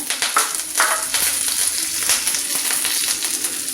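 Mustard seeds and urad dal frying in hot oil for rava upma, a bright crackling sizzle with scattered pops and light stirring, close and fairly loud, with no voices.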